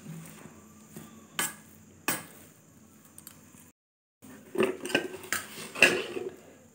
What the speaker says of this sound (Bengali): এরপর আলুগুলো এরকমভাবে হাতা দিয়ে করা হচ্ছে